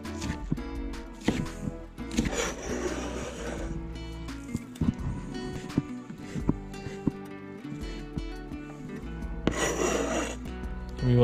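Fresh ginger rasped on a grater for a kingfish ceviche, repeated scraping strokes in uneven bursts, fairly close and loud, with a stronger stretch of grating near the end.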